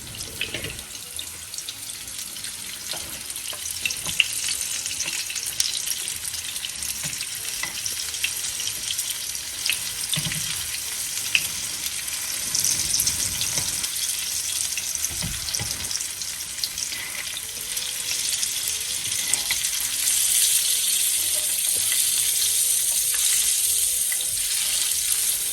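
Unniyappam sputter and fry in ghee after being flipped, a dense continuous hiss and crackle close up that builds slightly toward the end, with occasional soft clinks and no speech.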